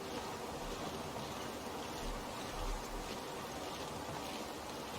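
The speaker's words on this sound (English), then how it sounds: "Even though it's a nice time of day, it's a punishing wind." Steady, strong wind roars across an open landscape in the video game Sleepwalker, a constant broadband rush with slight gusting swells and no other sounds.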